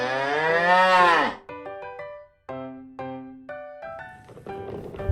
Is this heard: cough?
no